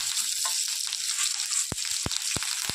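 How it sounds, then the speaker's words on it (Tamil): Mustard seeds, urad dal, dried chillies and curry leaves sizzle steadily in hot coconut oil, a continuous hiss broken by a few sharp pops and crackles. "கொஞ்சம் கடுகு போட்டுக்கிறேன். கொஞ்சம் உளுத்தம் பருப்பு, காஞ்ச மிளகாய், கருவேப்பிலை போட்டுக்கிறேன்."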